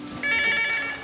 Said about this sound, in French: quand le téléphone sonne